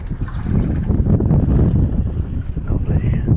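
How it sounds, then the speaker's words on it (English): Trailer sailer sailboat under way across the English Channel, loud rushing wind buffeting the microphone with low water and hull noise, steady and close, with faint voices. "Finally sailing."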